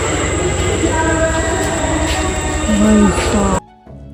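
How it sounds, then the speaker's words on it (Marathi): A train at Chiplun railway station rumbles loudly nearby with rhythmic rail clatter and brief squealing wheels, then the sound cuts away abruptly. "ही आमची ट्रेन दाखवत आहेत 11:30ची आणि हे रेल्वे स्टेशन आहे"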